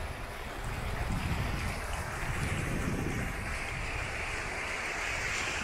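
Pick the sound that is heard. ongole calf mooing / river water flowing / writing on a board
river water flowing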